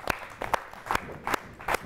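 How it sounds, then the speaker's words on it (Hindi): Rhythmic hand claps, about five distinct beats, ring out in a hall at a Holi comic poetry gathering to welcome the next poet. "तो जोरदार तालियों के साथ स्वागत करेंगे हमारे अगले कवि"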